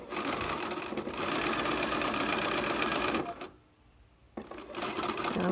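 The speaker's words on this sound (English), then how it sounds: "Now I'm at the end, and I'm going to backstitch." A sewing machine stitches a pillowcase seam and backstitches at the end, running in a fast, steady whir that stops for about a second, then restarts to finish the reverse stitching.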